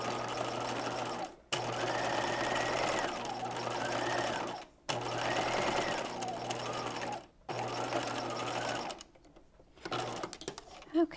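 Sewing machine running a straight stitch through fabric at a half-inch seam, a close steady whirring hum in several long runs with short stops between them, ending with quieter handling.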